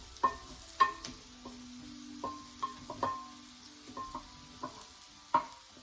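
Vegetables cook in a pot for a herby chicken stew, with a quiet sizzle under repeated light clinks and taps of a utensil against the pot.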